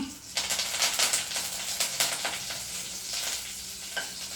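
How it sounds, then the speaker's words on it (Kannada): Green chillies and curry leaves sizzle in hot oil for a vegetable oats dish, a close, steady crackling fry with bursts of spattering and a spoon stirring through the pan. "ಇದಕ್ಕೆ ನಾನು ನೋಡಿ ಹಸಿಮೆಣಸಿನ್ಕಾಯಿ ಹಾಕ್ತಾಯಿದ್ದೀನಿ. ಅದಾದಮೇಲೆ ಕರಿಬೇವು"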